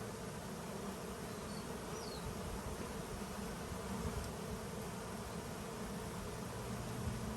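A dense, steady buzzing of many honeybees close by at an open hive, continuous and even throughout with no voices.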